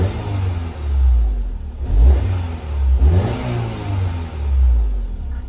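A Honda S2000 (AP2) engine revs up in several rising bursts, settling back between each, close by and fairly loud with no talking.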